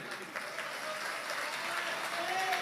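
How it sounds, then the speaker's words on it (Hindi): An audience at a Hindu spiritual guru's gathering claps together, a steady patter of many hands that is fairly faint and sustained throughout. "राइट, ताली बजाइए।"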